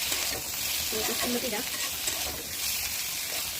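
Food, with dried chillies among it, frying in a pan, giving a constant close hiss and sizzle while a voice talks briefly over it.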